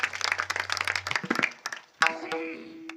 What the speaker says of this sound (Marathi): एकदा जोरदार टाळ्या महाराजांसाठी.